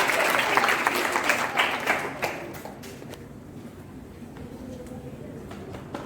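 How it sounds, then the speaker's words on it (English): Audience applause at a school quiz competition, a dense burst of many hands clapping that tapers off over a few seconds into quieter room noise. "A big clap for him."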